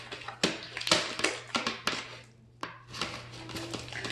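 Wet, sticky slapping and squishing as butter slime is mixed by hand, in irregular close bursts with a brief pause midway, faint hum underneath and no talk.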